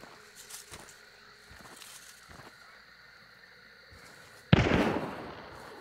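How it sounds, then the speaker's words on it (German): A single sharp gunshot cracks loud in a video-game firefight near a building, followed by a brief rushing tail, after several seconds of quiet ambient ticks and faint clicks. "Der Schuss kam aber gerade aus dem rechten Gebäude."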